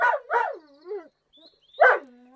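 Timmy the dog barks at a cat: two sharp, close barks in quick succession, a short whining yelp, a pause, then one more loud bark, with no voices.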